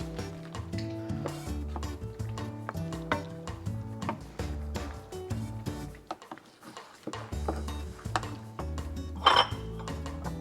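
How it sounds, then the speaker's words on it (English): Vegetables being mixed in a pot for homemade dog food, giving repeated metallic clinks and scrapes of a utensil against the pot over steady background music. "I think I'm gonna just mix the rest of the veggies here"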